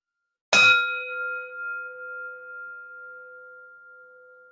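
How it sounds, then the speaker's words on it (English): A single closing bell at a worship service is struck once, its clear metallic tone ringing out and slowly fading over several seconds in otherwise silent surroundings. "We now sound our closing bell."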